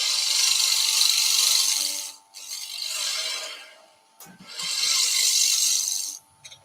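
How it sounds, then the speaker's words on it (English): A quarter-inch bowl gouge skims wood spinning fast on a lathe, giving bright raspy scraping in two long passes, with a short pause between and a few small knocks and taps. "little 1/4 inch bowl gouge to start with. We're just going to skim that surface."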